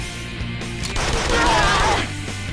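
Rapid squad gunfire in the Persona 5 Royal battle, a dense crackling burst over game music and effects, loud and sustained for about two seconds.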